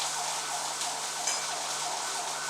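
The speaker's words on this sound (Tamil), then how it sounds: "இது ஃபயர் சர்வீஸ்." A fire engine siren wails as it passes by, a continuous high rising-and-falling tone over steady background noise, moderately loud and without any voices.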